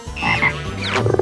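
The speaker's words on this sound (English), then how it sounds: "Red frog." A frog croaks loudly and close in a children's animal video, a single strong croak followed by a short run of rapid pulsing croaks, with no talking.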